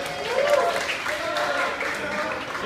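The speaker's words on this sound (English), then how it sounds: "Let's give Tony a round of applause," Applause from a town hall crowd greeting Tony, a steady wash of clapping over about three seconds, mixed with cheers and voices talking.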